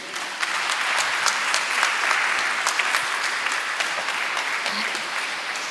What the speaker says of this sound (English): Please applause to him.